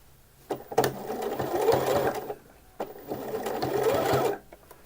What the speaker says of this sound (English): do a line of stitching along here within the 1 centimetre seam allowance, just to hold all that in place